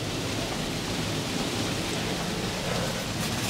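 Steady heavy rain with gusting wind outdoors at a windsurfing spot, a dense continuous broadband roar at constant loudness throughout, with no voices.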